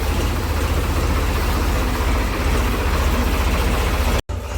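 Tractor engine running steadily nearby while chickpeas are harvested and threshed in a field, a loud continuous low rumble that holds for several seconds before cutting out abruptly near the end.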